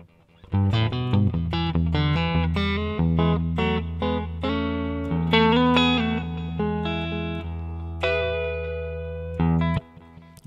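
An electric guitar plays through a Mooer GE200 multi-effects unit with a subdivided delay, a steady run of picked notes over a sustained low tone, each note trailing repeating echoes, loud and alone until it cuts off near the end.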